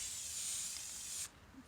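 An aerosol spray can hisses in a strong, continuous burst onto hardcover book edges that are held down by bricks, then cuts off sharply, leaving faint room noise behind.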